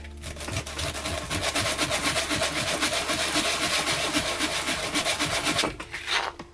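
Hand sanding on a blaster prop build, a steady rapid back-and-forth rasping scrape running continuously and close up, pausing briefly near the end.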